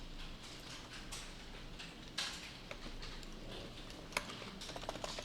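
Quiet typing on a computer keyboard, with soft scattered key clicks and a few sharper, more distinct presses near the end, one of them a press on the F11 key, heard alone with no talk.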